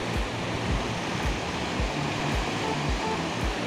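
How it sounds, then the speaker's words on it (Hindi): Steady, loud rush of rainwater runoff flowing fast in the Saudi desert, a dense continuous roar like a torrent, with no voices. "ये पानी की आवाज़ तो आप सुन ही रहे होंगे"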